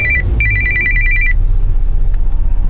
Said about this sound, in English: my phone starts ringing